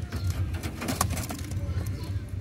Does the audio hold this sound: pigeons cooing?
yes